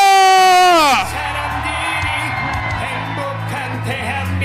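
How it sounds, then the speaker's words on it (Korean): At a Lee Jae-myung election rally in Jeongeup, a long amplified shout slides down in pitch and gives way to a loud, sustained roar of cheering from the crowd. "이재명 정읍 고창 다같이 함성 발사"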